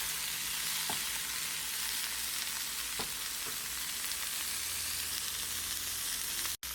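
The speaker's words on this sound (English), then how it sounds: "I'm going to add the paneer now." Paneer and vegetables fry in a pot with a steady, soft sizzle, broken by a few faint stirring clicks and one sudden sharp pop near the end.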